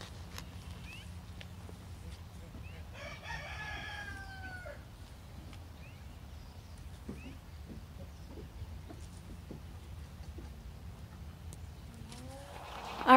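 Backyard chickens and a rooster, with clucks and a short crowing call partway through and more fowl calls near the end, all faint over steady outdoor background noise.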